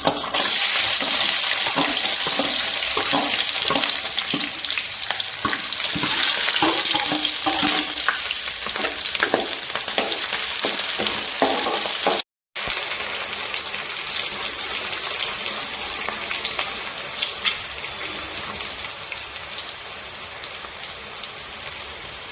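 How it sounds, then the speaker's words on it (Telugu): Onion and green chilli pieces fry in plenty of hot oil, a loud, dense, continuous crackling sizzle close by, with a brief cut partway through and no talk. "ఆయిల్ వేడయిందండి ముందుగా ఉల్లిపాయ పచ్చిమిరపకాయ ముక్కలు వేద్దాం"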